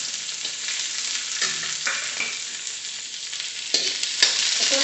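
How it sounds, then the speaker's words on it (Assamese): Onions fry in a little oil in a pan for a pork and taro flower dish, giving a steady close sizzle with occasional scraping stir sounds and no talking. "তাৰপিছত পিঁয়াজখিনি মই তেলত অলপমান ভাজি ল'ম"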